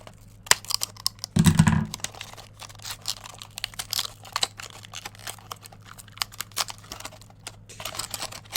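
Scissors snip through the plastic packaging of new PC components for an Intel upgrade build, giving close, crisp cuts and crinkles in an uneven run with one heavier rustling burst early on.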